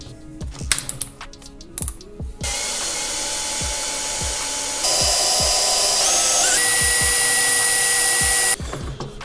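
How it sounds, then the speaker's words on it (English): Light tapping knocks give way to a loud, sustained power drill whine as a small bit drills into a Chevy Cruze headlight housing, rising in pitch partway through, then cutting off, leaving more tapping. "got these headlights off, so let's get to drilling. I'll start with a smaller bit."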